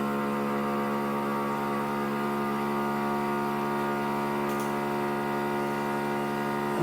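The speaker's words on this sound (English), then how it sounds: "I'm sealing one end of the bag, then I'll vacuum seal it." A loud vacuum sealer runs while sealing a plastic bag, a steady droning motor hum holding constant for several seconds without a break.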